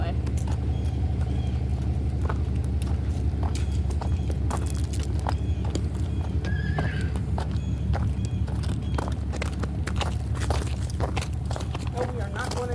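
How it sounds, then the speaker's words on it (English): A horse walks with a rider on a farm, its hooves giving a steady, repeated clip-clop near the listener under continuous talk and background noise. "Walking my girlfriend on the horse."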